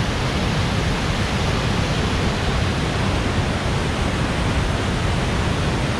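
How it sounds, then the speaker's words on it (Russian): Heavy waterfall on the Kanda river swollen with snowmelt, a loud, steady broadband roar of rushing water that fills the whole span without letup. "И вот такой водопад."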